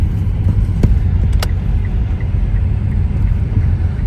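A car driving through a village in winter, heard from inside as a steady, loud low engine and road rumble with a couple of brief clicks.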